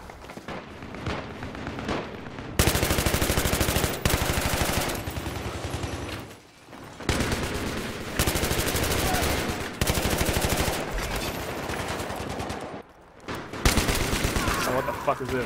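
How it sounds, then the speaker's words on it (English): AK-74M gunfire in a video game, long rapid automatic bursts of sharp cracks fired close and loud, broken by brief pauses between strings of shots. "I'm on the AK-74M, and that's one of my best guns."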